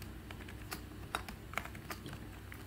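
Rapid clatter of keys as Rust code is typed on a computer keyboard, close and steady with a few sharper key strikes, no voices.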